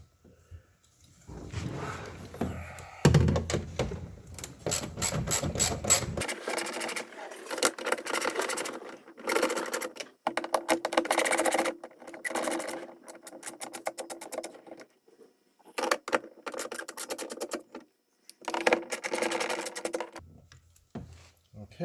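Three 10mm bolts being unscrewed from the door of a 2001 Lexus LS430 during driver window motor and regulator work, with bursts of rapid ratcheting and tool whirring broken by short pauses, fairly close and mixed with faint handling noise.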